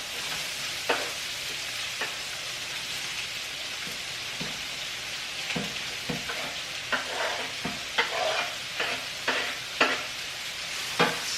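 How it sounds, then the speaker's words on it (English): Chopped carrot, celery and onion sautéing in bubbling butter and oil in a skillet, a steady close sizzle with repeated scraping taps of a wooden paddle stirring through, no talking. "I'm going to scrape my carrot, celery, and onion right into this skillet"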